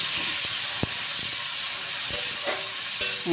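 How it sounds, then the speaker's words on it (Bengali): Prawns frying in a pan for kochu pata chingri give a loud, steady sizzling hiss throughout, with a few soft taps and scrapes of a stirring utensil now and then. "সামান্য নাড়াচাড়া করে চিংড়ি মাছটা ভেজে নিচ্ছি"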